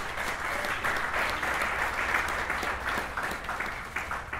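A church dinner audience at a fifth-anniversary celebration applauds a pastor in steady, dense clapping that fills the room from start to finish.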